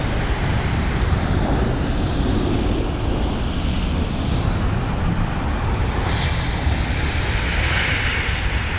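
A British Airways Airbus A319 rolls out after touchdown at London Heathrow, with a steady, loud roar of jet engines and broadband rushing noise, mixed with wind buffeting the microphone, and no voices.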